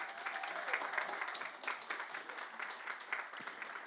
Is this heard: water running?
no